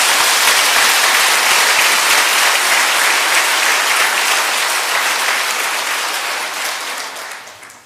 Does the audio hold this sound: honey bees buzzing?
no